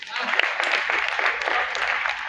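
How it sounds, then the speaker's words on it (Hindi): A poetry recital crowd at a kavi sammelan marking the Ram temple anniversary gives a short burst of applause, brisk dense clapping heard briefly with voices over it. "इस बात पर ताली बजाइए"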